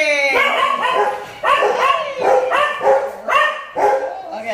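Several dogs bark and yip in a rapid, irregular series of close, loud bursts, with a kitchen setting during banana muffin baking and some background voice mixed in.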